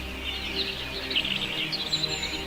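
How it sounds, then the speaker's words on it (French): Birds sing in a woodland of the Vosges near Vittel, light high chirps and trills scattered over a steady soft hiss of forest ambience, fairly distant and faint. "un immense calme s'impose, entrecoupé par le chant des oiseaux."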